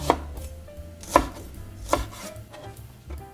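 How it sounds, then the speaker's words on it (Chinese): A kitchen knife chops garlic on a board, landing three sharp, close-up strikes spaced about a second apart over a quiet room with no talking. "来切蒜啊，这是切菜的"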